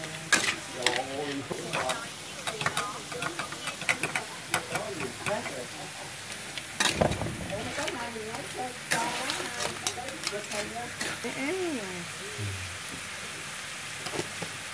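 Crabs stir-frying in a pan give a busy, crackling sizzle with frequent scraping and clattering from stirring, while a person talks over the cooking.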